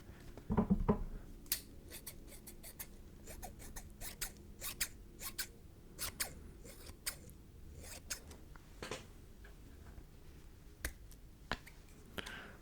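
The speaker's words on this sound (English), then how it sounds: "I should cut the tag off here." Scissors snip off a clothing tag up close, sharp separate clicks and cuts spaced irregularly over quiet, with a louder rustle near the start.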